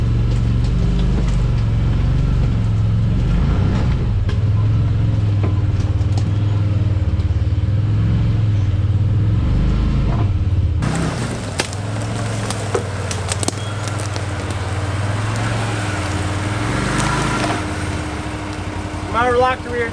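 A Can-Am Defender side-by-side climbs a weedy bank with tree stumps off-road, its engine droning loudly and close, then revving harder with clattering and scraping as it digs in, while a person talks over it.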